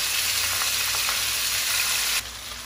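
Salt-and-peppered chicken legs fry in hot olive oil, a steady close sizzle with faint stirring clicks that drops slightly in loudness near the end, with no talk.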